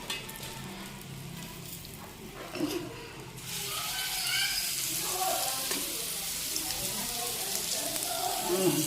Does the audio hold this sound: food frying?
yes